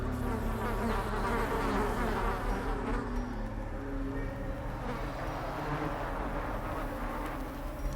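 Dense insect swarm buzzing from a thronging hive in the video game Darkest Dungeon, a thick, continuous droning hum with no voices.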